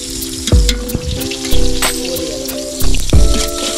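Small onions and big onions sizzling in hot oil for village-style country chicken biryani, a steady frying crackle with dull clunks of stirring and pan knocks.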